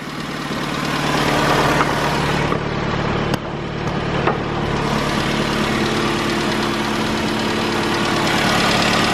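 An old, cheap car's engine idles at a steady, loud, close-up pace, with a faint knocking texture and a couple of sharp clicks partway through; no talking is heard.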